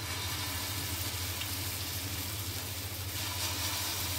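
Rava uttapam batter sizzles and fries steadily in a hot pan, a constant close crackling hiss with no voice over it.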